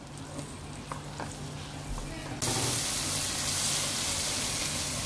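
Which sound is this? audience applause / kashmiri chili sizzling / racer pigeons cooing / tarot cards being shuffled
kashmiri chili sizzling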